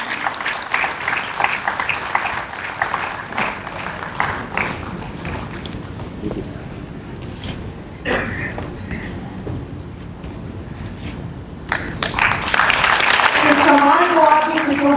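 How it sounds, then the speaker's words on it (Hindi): An audience breaks into applause near the end, clapping building loudly after a stretch of voices and shuffling noise. "जोरदार तालियां होनी चाहिए इसके लिए।"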